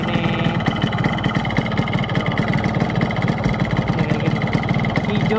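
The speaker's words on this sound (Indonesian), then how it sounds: "Untuk suara mesin sih terbilang normal ya teman-teman ya." A Frisol two-stroke motorcycle engine idles cold, close and steady, with a rapid, uneven putter that goes on throughout.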